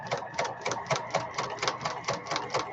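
A regular sewing machine stitches pinned fabric at a moderate pace, giving a steady rhythmic chatter of needle strokes at about three per second, close and clear.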